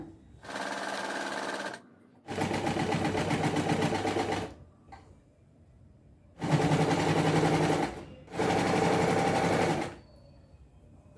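Sewing machine stitching a designer dress, running in four sustained bursts of steady whirring separated by short pauses, close and fairly loud.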